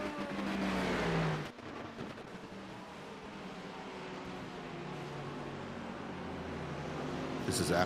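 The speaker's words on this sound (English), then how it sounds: "watch these GTP cars trying to slide past a never-ending line of GT3 racers" GTP prototypes and GT3 race cars in a Daytona racing video game, engine drone rising and fading as cars pass, with a brief louder roar at the start and a commentator talking over it.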